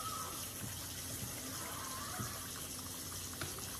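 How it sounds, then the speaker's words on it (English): Water gushing steadily from a tap or can into a cooking pot while making shrimp and sausage spaghetti in a home kitchen, a continuous moderate pour with no voices. "I'll put my water in it"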